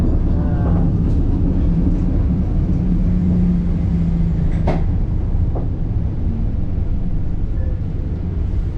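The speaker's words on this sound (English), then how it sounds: "So we're experiencing the San Francisco tram service." A San Francisco tram rolls along with a steady low rumble and rattle, a few sharp squeals and clanks cutting through the continuous mechanical noise.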